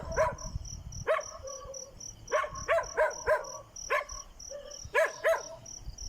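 A dog barks in short, irregular yaps, several in quick succession, over a steady high chirping of insects in the background.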